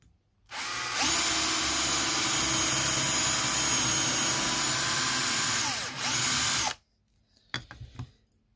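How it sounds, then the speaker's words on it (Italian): A Bosch Professional 12V GSR cordless drill bores into wood with a loud, steady whine lasting several seconds and a brief dip near the end, then stops and is followed by a few light clicks. "Selezioniamo la rotazione di orario e siamo pronti per forare"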